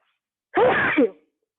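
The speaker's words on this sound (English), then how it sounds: "my allergy sneeze will not do anything to you" A single sharp allergy sneeze bursts out close by, lasting about half a second, followed by silence.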